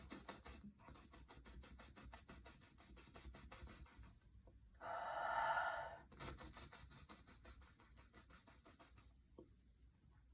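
Rhythmic nasal breathing: rapid, close pumping sniffs through the nose after Ayurvedic herbs are applied to the nostrils, broken by one longer, stronger inhale midway.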